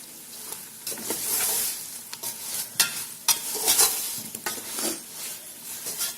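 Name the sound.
spices stirred into frying caramelized onions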